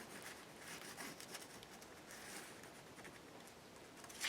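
A Stabilo pencil rubs steadily around the edge of a journal page, a soft continuous scratchy rasp close by with no voices.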